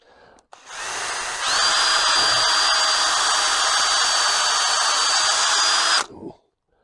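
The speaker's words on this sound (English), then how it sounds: "I'll drill this" A power drill whirs up and bores steadily into squared timber for about five seconds, loud and close, then winds down and stops.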